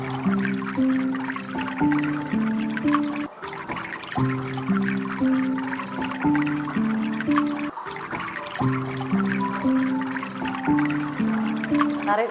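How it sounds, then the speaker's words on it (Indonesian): Babbling water on a relaxation recording, a soft continuous trickle beneath gentle tonal sounds that repeat in a steady loop. "dengan suara gemericik air"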